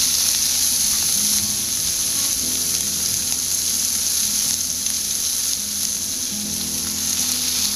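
Onion sizzles loudly and steadily in hot oil while frying for Japanese-style fried noodles, a continuous close hiss with faint stirring underneath and no voices.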